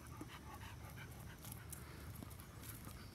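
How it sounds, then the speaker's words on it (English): A dog panting steadily while out on a walk, quick rhythmic breaths close by with faint outdoor background and no talking. "I'm out for a walk with my dog, Mia."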